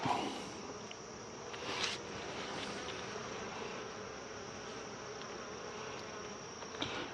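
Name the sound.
honeybees buzzing around hive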